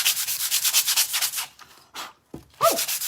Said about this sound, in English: So I just want to sand this down. I have a little bit rougher grit sandpaper here too.